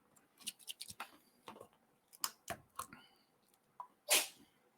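A cat sneezes once, sharp and close, near the end, after a scatter of small soft clicks and taps in a quiet indoor room.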